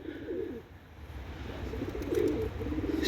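Turkish tumbler pigeons coo in low, rolling phrases that rise and fall in a few waves, fairly close by. A steady outdoor hum runs underneath and no voices are heard.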